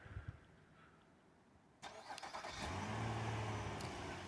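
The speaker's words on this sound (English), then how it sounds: "and remote start." A Nissan car starts by remote start. The starter cranks briefly after a quiet lull, and then the engine catches and settles into a steady idle. The sound is fairly faint and heard from a short distance, with no talking.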